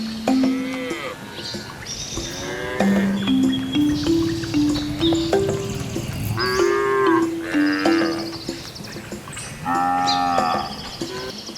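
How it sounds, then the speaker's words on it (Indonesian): Cattle moo repeatedly, loud and close, with long drawn-out lowing calls rising and falling over about ten seconds and no talk. "Sapi adalah hewan memamah biak ruminansia besar dan berkuku belai."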